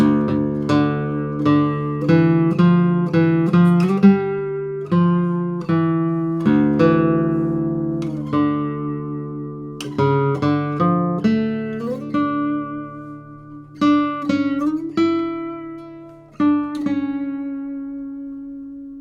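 A 1964 Hernández y Aguado acoustic guitar plays a flowing melodic passage alone, notes plucked steadily with chords ringing and sustaining between phrases.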